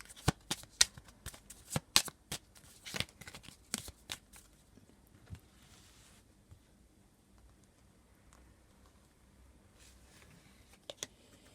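Fairy Lenormand oracle cards being shuffled by hand, a run of crisp riffling flicks and slaps packed into the first few seconds, then sparser soft card taps over a quiet room.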